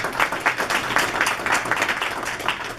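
Steady applause from a crowd at a Korean business fellowship chapter inauguration as an award certificate is handed over, medium loudness with distinct claps blending into a continuous patter for about three seconds.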